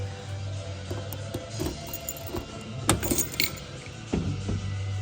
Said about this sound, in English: Let's go ahead and open this trunk.